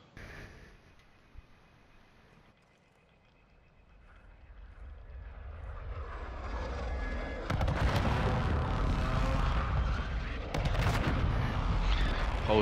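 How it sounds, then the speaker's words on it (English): Gunfire in Call of Duty: Modern Warfare II builds from a quiet rumble into heavy sustained shooting, with dense rapid shots and loud bursts dominating the second half alongside a droning engine roar. "Whole heap of shooting down here."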